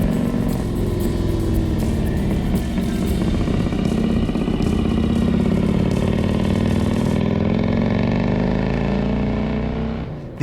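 A vintage Egli Vincent motorcycle engine runs close by with a steady, throaty rumble whose pitch rises gradually as it revs, sustained loud for about ten seconds before cutting out.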